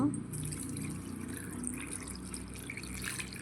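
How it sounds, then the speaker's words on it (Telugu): Water is poured over thin-sliced potatoes salted for chips, a soft continuous splashing and trickle close by under light kitchen background noise. "వాటర్ వేసేసుకున్నా"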